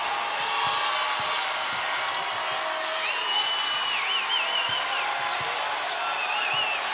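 Andover's home crowd cheers and whistles at a state quarterfinal boys high school basketball game, a dense steady roar with sharp whistles, ball bounces and sneaker squeaks mixed in.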